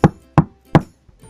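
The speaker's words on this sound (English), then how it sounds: "She walked up to the cottage and she knocked." Knocking on a wooden cottage door: three firm, evenly spaced knocks close by, followed by a faint softer tap, with no voices.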